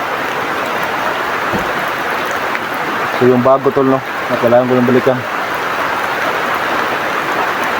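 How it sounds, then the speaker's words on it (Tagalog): Steady heavy rain hisses throughout, with someone speaking briefly over the downpour in the middle. "Ang lakas pa ng ulan"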